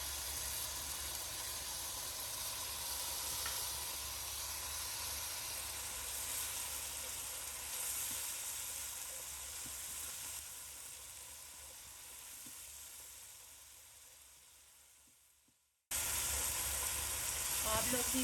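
Ginger garlic paste hits a hot pan with curry leaves and hisses in a loud, even sizzle that slowly fades over about fifteen seconds, breaks off abruptly, then returns at full strength.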